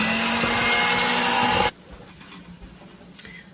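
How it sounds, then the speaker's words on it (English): Heavy cream is whisked in a bowl with a loud, steady whirring for under two seconds, then it stops abruptly, leaving a quiet room. "I'm going to just take it and whisk it until it becomes nice and fluffy"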